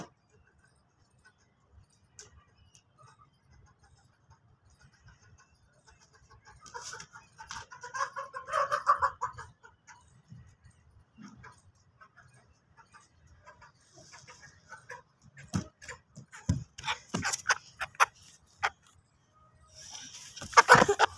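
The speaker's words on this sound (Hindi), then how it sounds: "ये देखें, ये एक मुर्गी" Two backyard hens giving scattered clucks, mostly quiet at first and then a few louder bursts of calls, with some handling noise and brief faint talk nearby.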